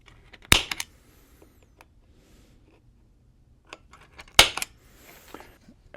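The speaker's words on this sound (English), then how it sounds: "Now we'll take our center punch and just punch these holes." A steel center punch struck into maple wood, two sharp isolated taps about four seconds apart, close and crisp, with faint handling noise between them.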